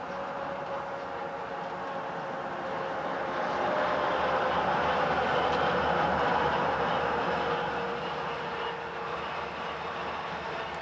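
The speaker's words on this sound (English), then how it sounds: "watch the train cross the Eagle River" A freight train on a steep high mountain mainline crosses the Eagle River at the town of Eagle, a continuous rumbling roll of wheels and cars heard from a distance, swelling slightly louder midway and then easing off.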